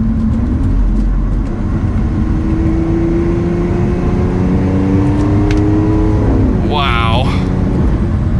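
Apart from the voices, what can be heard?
Lamborghini Aventador LP700-4 accelerating and paddle shifting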